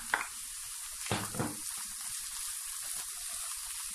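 A vegetable and minced meat filling fries in oil in a pan, giving a soft, steady sizzling hiss broken by a few brief stirring clatters, with no other sounds.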